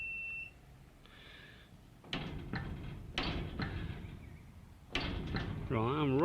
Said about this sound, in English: I'm rocking the garage door